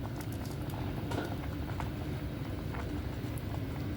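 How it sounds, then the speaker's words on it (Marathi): Kheer with cashews simmers in a pot for a Maha Shivratri meal, a steady low bubbling rumble that stays even and close throughout, with no talking. "हें पळयात खतखतो आयिल्लें आसा"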